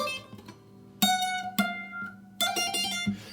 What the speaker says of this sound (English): That little like synth in the background